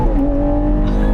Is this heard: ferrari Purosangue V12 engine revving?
yes